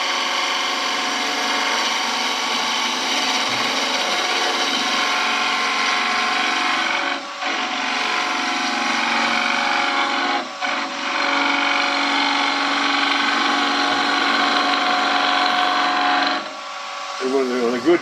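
A skew chisel cuts a wooden spindle on a lathe during a woodturning club demonstration, giving a steady, loud, whirring shave that runs almost continuously with brief breaks where the tool lifts, and a voice speaks over it.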